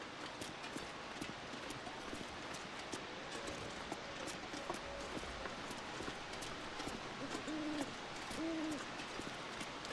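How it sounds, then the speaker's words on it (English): Owls hooting in the survival game The Long Dark, a few soft, low hoots near the end over a steady rustling, rain-like background and scattered footstep clicks. "The owls are doing owl things. Hooty hoo."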